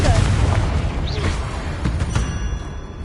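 A Confringo blasting spell exploding in Hogwarts Legacy, a short booming burst with a whooshing tail, loud and close.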